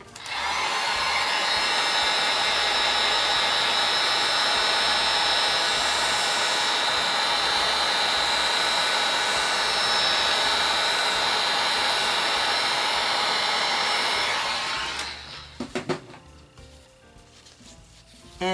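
A heat gun blows steadily and loudly onto warm resin in a silicone mold, a continuous whooshing roar with a whine that cuts off near the end, followed by light handling clicks.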